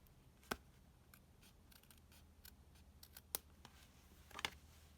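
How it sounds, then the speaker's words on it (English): Scissors make a few short, crisp snips while trimming excess paper on a stamped card, close and quiet in an otherwise still room, with three sharper cuts standing out. "we can just use the scissors to snip off the excess"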